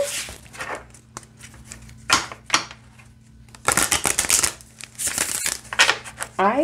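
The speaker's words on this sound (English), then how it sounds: "let's see how they shuffle." A small 22-card tarot deck is shuffled in several bursts of crisp riffling and card slaps, close up, with quiet gaps between and some speech nearby.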